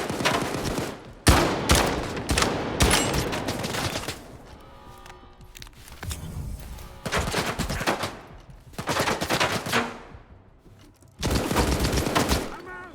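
Rifle gunfire in a first-person shooter game, heard as several loud, sustained bursts of automatic fire separated by short quieter gaps, with a voice speaking in between.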